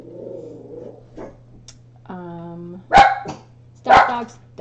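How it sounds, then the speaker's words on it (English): Dogs barking indoors: two sharp, loud barks about a second apart, close by, following a woman's speech and a brief whine, over a steady low hum. "Stop, dogs! Dogs! Dogs!"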